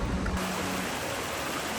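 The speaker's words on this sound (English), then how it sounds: "The sound of rushing water becomes more constant" Rushing water at Olympic National Park, a steady, broad outdoor roar that stays constant throughout, with a brief louder rumble at the start and no talk.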